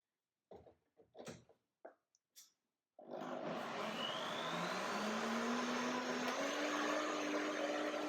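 A German-made blender whirs up to speed while blending cashew milk, a loud, steady, close motor roar whose pitch rises gently. Several short thumps and clicks come before it starts.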